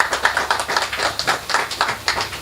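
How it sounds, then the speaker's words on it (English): An audience at a cricket auction tournament event claps steadily throughout, a dense ongoing round of applause with no voices heard. "So please give a round of applause for yourselves."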